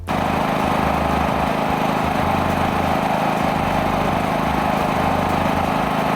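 AL-KO 3500 C or 6500 C open-frame generator engine running steadily under rated load, heard from about 7 metres away as a continuous droning hum with no pauses and no voices.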